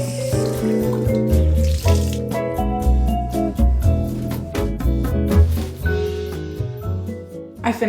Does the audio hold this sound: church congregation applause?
no